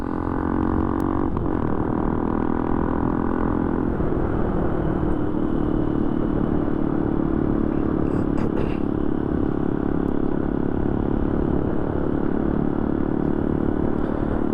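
Benelli TNT 135 motorcycle cruising in fourth gear through a neighborhood at about 25 mph, a steady continuous engine drone close by with a brief shift in pitch early on, wind rumble throughout.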